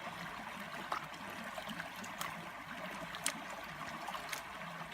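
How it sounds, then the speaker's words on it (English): Water swirls and trickles in a gold pan while panning pipe clay at Reedy Creek, a soft, steady wash broken by a few light splashes and clinks, faint and close. "Slowly pan it off."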